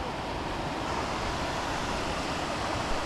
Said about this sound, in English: a famous waterfall from somewhere.